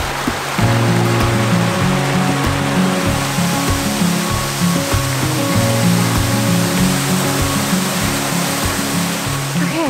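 A steady, loud rush of falling water from a roadside waterfall off Route 100 in Vermont, continuous and close, with a low rumbling drone running underneath.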